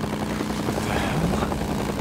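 A helicopter in the video game Days Gone gives off a steady, rumbling rotor drone with a low pulsing throb, moderately loud and continuous across the moment.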